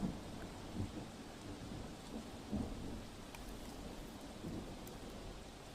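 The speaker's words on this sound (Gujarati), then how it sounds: "વલસાડ જિલ્લામાં વાપીમાં સતત વરસાદ વરસી રહ્યો છે।" Heavy continuous rain falling in Vapi, Valsad district, a soft constant wash of rainfall with a few low muffled thumps, fairly faint and distant with no voices.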